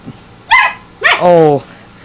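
A puppy over seven weeks old from a litter barks twice, close and loud: a short yip followed by a longer, strained bark.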